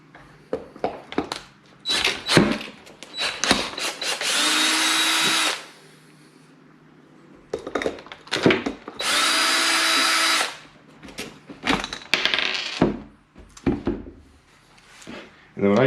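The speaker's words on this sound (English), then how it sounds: "I'm going to use my drill instead to try to get some of these wheels off" Power drill spinning wheel nuts off a Losi LMT monster truck, several loud sustained whirring bursts with clacking and handling noises between them, close up.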